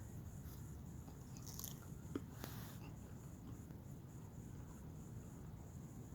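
Butter crunch lettuce bitten and chewed close to the mic, with a couple of crisp crunches early and then quiet, soft mastication in a faint room.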